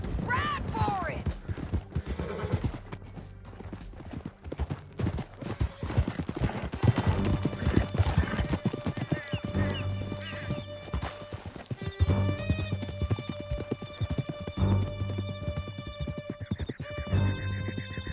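Horses galloping in Red Dead Redemption 2 during a canyon chase, with rapid, rhythmic hoofbeats close and loud, whinnies and creaking tack over a rising musical score, with occasional shouted dialogue.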